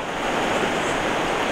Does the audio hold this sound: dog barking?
no